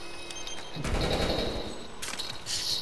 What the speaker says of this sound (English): she's using that shotgun